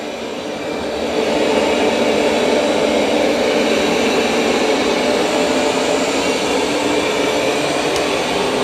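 A Roborock robot vacuum and mop runs across carpet with its mop pad raised, giving a loud, steady motor whir that rises after the first second and holds even to the end.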